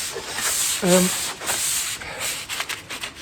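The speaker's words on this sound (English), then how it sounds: "give it a good clean down, with a bit of sandpaper" Sandpaper rubbing over an old wooden garden tool handle, a few close, raspy strokes at an even pace, with a brief voice in the middle.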